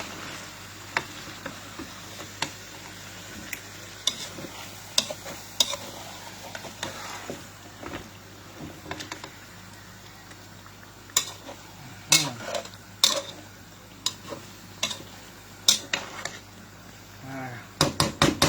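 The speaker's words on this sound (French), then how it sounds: "on fait cuire à feu doux" Food simmers in a pot over low heat on a home stove, a soft steady bubble beneath sharp intermittent clinks and scrapes of a utensil stirring against the pot, growing busier toward the end, with a voice speaking now and then.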